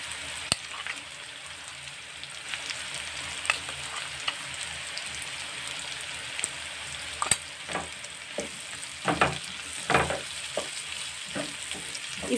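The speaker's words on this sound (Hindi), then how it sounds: "अब इसमें हम मसाले डाल देंगे," Spices and ajwain sizzle in hot oil with carrot and radish for a carrot, radish and chili pickle cooked over medium flame, a continuous crackling fry punctuated by stirring scrapes and clinks.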